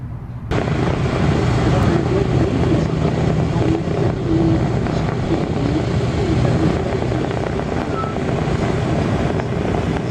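Steady broad engine rumble with wind buffeting, the B-17 bomber Sally B idling close by as it rolls and slows to a standstill, continuous throughout with no clear speech.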